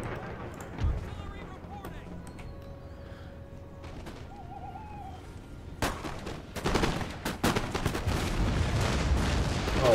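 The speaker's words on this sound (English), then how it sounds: "Oh wow, that was a great artillery shot." Artillery blasts and gunfire in Empire Total War, a quiet thud early on, then a dense burst of cannon and musket fire building from about six seconds and continuing loud to the end.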